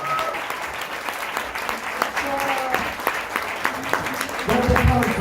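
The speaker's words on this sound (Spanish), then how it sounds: "Fuerte aplauso, fuerte aplauso." A live audience at an Atomy event claps steadily in a hall, with scattered sharp claps standing out and voices speaking over the applause near the end.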